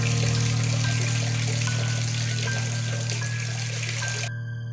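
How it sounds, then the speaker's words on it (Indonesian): Steady water running from a tap, a continuous close trickle with a low constant hum beneath it, cutting off near the end. "dia mendengar suara air keran berbunyi"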